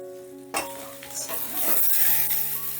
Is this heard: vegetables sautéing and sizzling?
yes